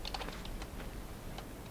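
Computer keyboard keys are pressed in a short, quick cluster of faint clicks, then one more tap after a pause, with no talking.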